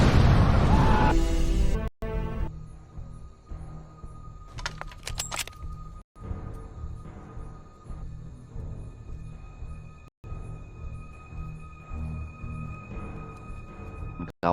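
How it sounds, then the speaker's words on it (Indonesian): A house explodes in a historical epic battle film, a loud broad roaring blast filling the first two seconds before cutting to quieter clanks and sustained tonal score with abrupt breaks. "Rumah Mauna tiba-tiba meledak akibat bubuk korek api yang sempat Mauna kumpulkan."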